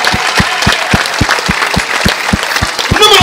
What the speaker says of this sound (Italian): dal capitano, numero uno, Alberto Sabatini, applauso